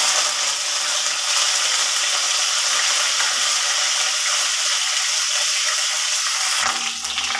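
Cumin seeds and curry leaves sizzle steadily in hot oil in a non-stick pan, a dense, even hiss that holds at close range for several seconds, with a slight change near the end.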